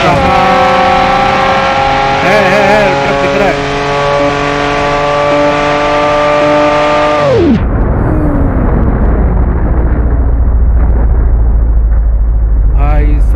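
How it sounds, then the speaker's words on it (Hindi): Head-on car crash in the video game BeamNG.drive, a Lamborghini colliding with an Optimus Prime truck: loud steady engine drone with rising revs cuts off in a sudden heavy crunching impact, followed by broadband debris rumble and noise. "क्या क्रैश हुई है भाई, गाड़ी के पार्ट्स पार्ट जैसा फट चुके हैं।"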